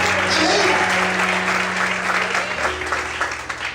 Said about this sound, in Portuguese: Você pode aplaudir o Senhor essa manhã